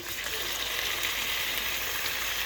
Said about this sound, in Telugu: ఇప్పుడు ఇందులో లెగ్ పీసెస్ని, మ్యారినేట్ చేసిన లెగ్ పీసెస్ని వేస్తున్నాను